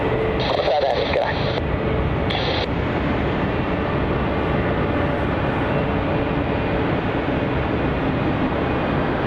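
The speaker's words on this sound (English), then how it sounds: "now we have the United 787 Dreamliner UA61 heading off to San Francisco" A United Boeing 787 Dreamliner, flight UA61 to San Francisco, takes off at Melbourne Airport. A loud, steady engine roar fills the whole stretch, with brief radio beeps and talk near the start.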